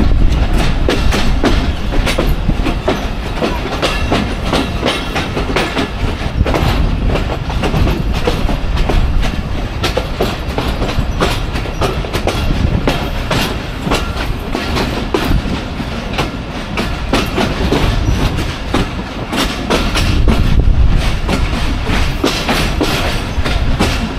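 The Dhalarchar Express intercity train runs on rails, a loud continuous rumble with steady clickety-clack wheel beats heard from on board, no voices.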